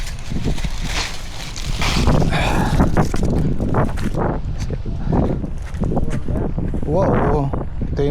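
Strong gusty wind buffets a house entrance on a dry stormy day, roaring and rattling close to the microphone while a person talks over it.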